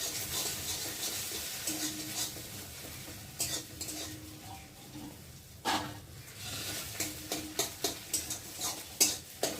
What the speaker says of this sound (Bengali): দিয়ে ডিমটা ঝুরঝুরে করে ভেজে নেব।